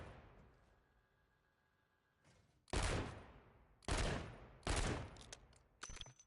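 A .50 cal pistol fired from the hip in Call of Duty MW3 lets off four loud, sharp shots at roughly one-second intervals, each followed by a short decaying echo, with a quieter shot at the end and no talking.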